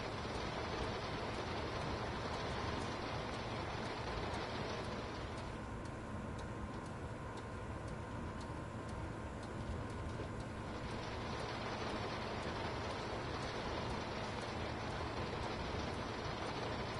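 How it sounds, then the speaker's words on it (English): Rain pouring on the roof of a train car in the Train Sim World 4 game, a dense continuous patter with a low rumble underneath, steady and enveloping throughout. "It really does sound like the rain's just pouring on top of this car."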